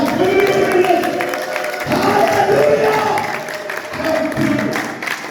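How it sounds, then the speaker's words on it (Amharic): A church congregation bursts into loud applause mixed with wavering ululation, a dense crowd roar that swells and dips, while a voice calls out over it. "እዚህ ታላቅ ጭብጨባ እልልታ ለጌታ"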